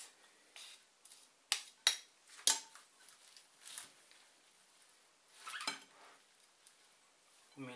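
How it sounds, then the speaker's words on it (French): Salad tossed with tuna and corn in a bowl makes scattered clinks and scrapes of utensils against the dish, some sharp and close, others soft rustles, with no talking. "Vous mélangez la salade avec le thon"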